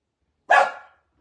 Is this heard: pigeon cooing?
no